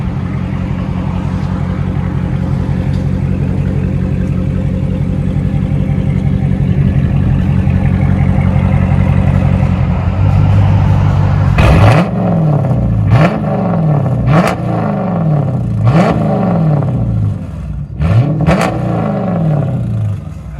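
A Dodge Charger 5.7L R/T HEMI V8 with aftermarket exhaust, Flowmaster Super 10 or straight pipes, idles with a loud deep rumble, then is blipped through a series of sharp, roaring revs that rise and fall repeatedly.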